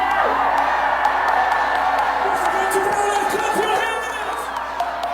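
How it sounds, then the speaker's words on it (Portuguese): A large crowd at a political rally on Avenida Paulista in São Paulo roars and cheers loudly in a sustained outdoor shout, with whoops rising above the mass of voices throughout. "quem quer mandar um gritão para Eduardo Bolsonaro no Brasil, dá um gritão aí!"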